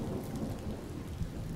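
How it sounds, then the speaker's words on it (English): Rain and thunder in a colony-building video game, a brief, soft wash of steady rainfall with a low rumbling undertone, faint and continuous with no talking. "Yeah, rain."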